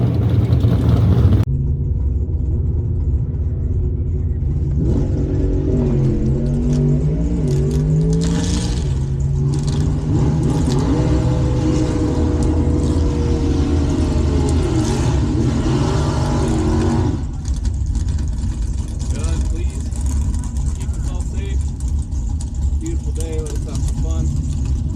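Stick shift drag race car at Dragway 42 launching down the strip, loud close engine revving with rising and falling pitch across shifts, mixed with crowd noise and people talking.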